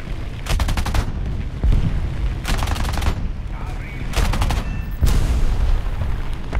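Bursts of machine gun fire from a CR.32 quater biplane in War Thunder air combat, four short rapid volleys spaced over a steady engine drone.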